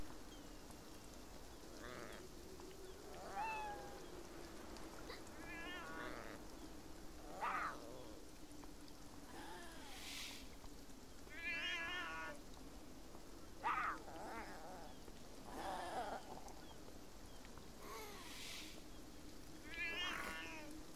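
Cats in the game Beyond Eyes meow and yowl repeatedly, scattered calls every couple of seconds at moderate level over a faint buzzing, insect-like background drone.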